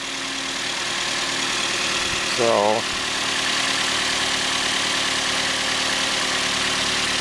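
A Toyota Yaris engine idles right after a coolant flush and refill, giving a steady, even rumble that runs through the whole stretch, with a single brief spoken word near the middle.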